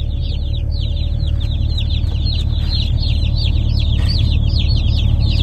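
A box of meat-bird chicks just collected from the post office peeps constantly in a dense, overlapping chorus over a steady low rumble, close and loud.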